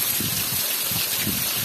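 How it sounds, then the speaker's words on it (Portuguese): Rain falls on the ground in the Pernambuco backcountry as a steady, dense hiss of drops, even and close throughout, with no voices. "Vendo a chuva caindo no chão."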